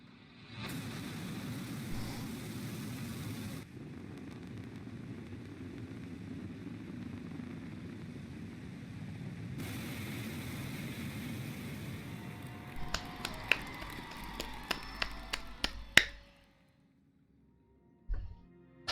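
A rocket launch in the space-agency game Mars Horizon: a loud, steady rumbling roar that cuts off, returns for a second long stretch, then gives way to a scatter of sharp clicks and chimes before going quiet.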